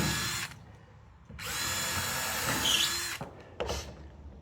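Power drill pre-drilling screw holes through wooden trailer boards into a metal bar, three loud bursts of drilling close up with short pauses between them.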